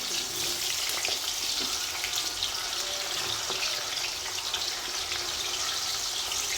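Aubergine and potatoes frying in oil for Gujarati undhiyu, a steady, loud, close bubbling sizzle that carries on without a break.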